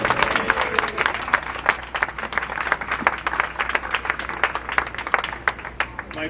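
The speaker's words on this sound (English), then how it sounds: "Give him a clap." Audience applause at a Dignity New York demonstration outside the Vatican Mission, a steady crowd of many hands clapping throughout, moderately loud and fairly close, with no talking over it.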